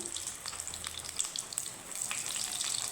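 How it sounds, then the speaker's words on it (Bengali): Fish fries in hot oil over a low flame, a continuous bright crackling sizzle with small spattering pops, steady and close throughout. "এখন একদম লো ফ্লেমে কিন্তু ভাজতে হবে মাছটা"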